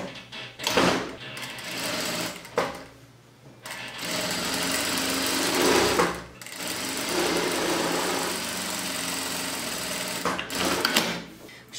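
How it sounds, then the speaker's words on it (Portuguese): A sewing machine runs in bursts as it stitches a fabric strip placed right side to right side for an external button placket on a romper or blouse, with short pauses between steady mechanical runs. "Então eu coloco direito com direito e vou costurar aqui."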